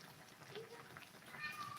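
A fat pet cat gives soft, faint meows at home, low against room noise, with a brief higher-pitched cry near the end.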